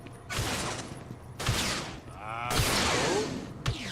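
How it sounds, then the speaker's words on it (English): Bursts of gunfire in a Starfield game mod ring out in several sharp volleys with short gaps, fairly loud and sometimes overlapping, with whooshing effects between shots. "I don't see who's shooting at me."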